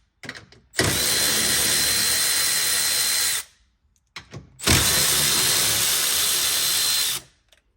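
A ratchet-style power tool backs out seat bolts on a Yamaha RMAX2 side-by-side in two loud, sustained whirring runs of about three seconds each, separated by a brief silence, close up with no speech.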